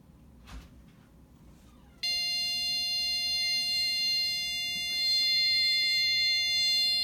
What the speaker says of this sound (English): Now when the alarm goes off, a buzzer should go off